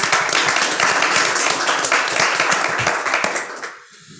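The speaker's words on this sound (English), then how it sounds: "I would like, again, the cabinet to be honored with a round of applause" A round of applause for the cabinet fills a school board meeting room, a dense, steady wash of many hands clapping that holds at full strength for about three and a half seconds, then quickly dies away into quiet.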